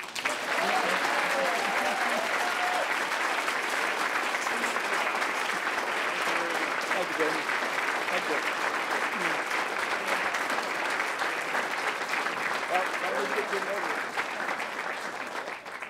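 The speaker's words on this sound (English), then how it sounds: "join me with a warm Rotary round of applause to congratulate our newest Paul Harris Fellow" A Rotary club audience stands and applauds to honour a new Paul Harris Fellow, giving steady, full-room clapping that holds at an even level for about sixteen seconds with faint voices mixed into the crowd noise.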